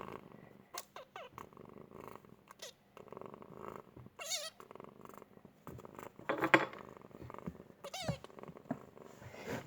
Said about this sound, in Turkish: İnşallah miyav sesi duyulmuştur